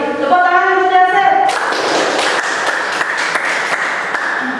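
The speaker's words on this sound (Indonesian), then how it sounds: "Tepuk tangan untuk Dasar." A voice speaks briefly before an audience at a school presentation bursts into applause, dense clapping from a classroom-sized group continuing steadily to the end.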